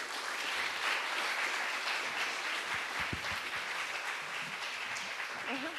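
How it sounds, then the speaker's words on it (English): An audience at a hybrid forum applauds a panelist, clapping sustained and fairly even throughout, with faint talk and murmuring mixed underneath and a voice starting near the end. "an applause for Guy"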